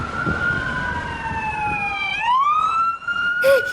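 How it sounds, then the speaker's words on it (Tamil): Cartoon ambulance siren wailing as the vehicle arrives, a steady rising and falling electronic tone that swoops and shifts pitch midway, heard alone at moderate volume. "பாட்டி பாட்டி, ஆம்புலன்ஸ் வந்துருச்சு"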